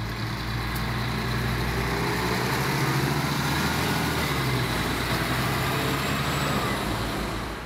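A Lucerne city bus on line 25 drives along with a steady, loud engine drone and road rumble that stays even throughout, heard from inside or close by.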